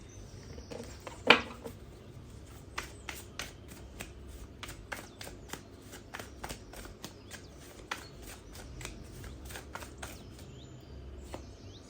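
A deck of playing cards being shuffled during a card reading, with a sharp riffle burst near the start followed by a steady run of soft, crisp card flicks and taps, close and alone.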